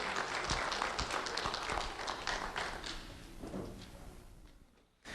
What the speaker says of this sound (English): Round of applause for Kaylisa and Megan.